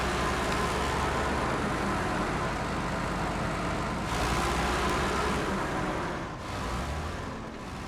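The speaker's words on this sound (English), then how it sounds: "I'm getting a little more of that flywheel sound in this truck now, like the Tatra does" Heavy off-road truck engine in the SnowRunner game drones on steadily with a low, rumbling flywheel hum, loud and continuous with no talk over it.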